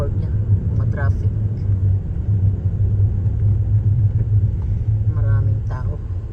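Steady road traffic rumble in Lake Los Angeles, California, a loud continuous low drone from a moving car, with people talking over it throughout.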